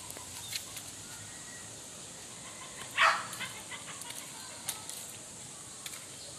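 A single dog bark rings out at a distance amid a steady outdoor hiss, followed by a few faint yips.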